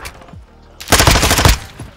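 Suppressed Vaznev-9K rifle fire in Modern Warfare II, a quiet lead-in followed by a dense rapid burst lasting about half a second, then tapering off; close and loud, with no talking.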